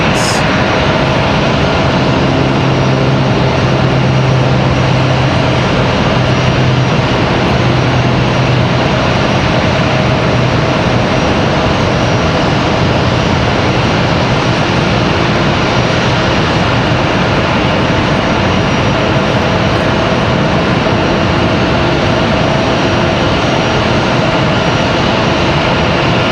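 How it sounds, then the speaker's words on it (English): Jet engines of a Delta Air Lines Airbus A320 idling in the alleyway at Raleigh-Durham International Airport give a loud, continuous roar with a steady whine and a low hum fading after about ten seconds, faint talk underneath. "So we got this A320 back here in the alleyway for Delta Airlines"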